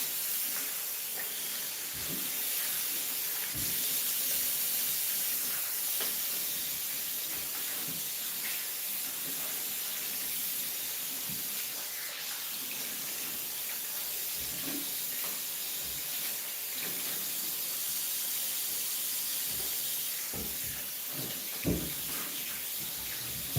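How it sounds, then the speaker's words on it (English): A kitchen tap runs steadily with warm water rinsing a whole turkey, a constant close hiss of flowing water broken by occasional splashes and knocks as the bird is handled in the sink. "Just gonna rinse this with warm water."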